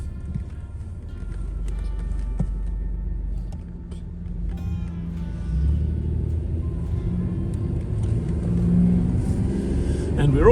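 A 1992 Oldsmobile 88 Royale pulling away, its engine rumbling low and building steadily as it drives off, with faint interior clicks and tones scattered through.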